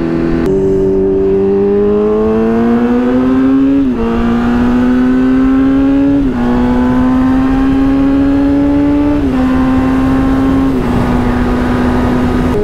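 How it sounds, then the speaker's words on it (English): A motorcycle in a video game revs hard and loud through several rising pulls, each climbing in pitch before briefly dropping at a gear change, a continuous close engine drone with no talking. "this bike even just sounds better for some reason"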